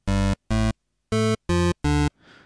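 FL Studio 3xOsc synthesizer plays five short, buzzy, harmonically rich stabs in an uneven rhythm, loud and alone, with a softer noisy tail at the end.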